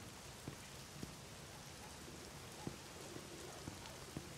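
Rain in the video game The Medium falls steadily as a dense, even hiss of drops on surfaces, with occasional louder individual drips standing out at irregular intervals and no voices.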